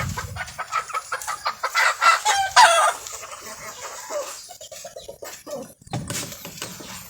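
Gamefowl chickens clucking with a rooster crowing among them, a dense run of close, busy fowl calls from a Filipino breeder's flock, including an Americana hen.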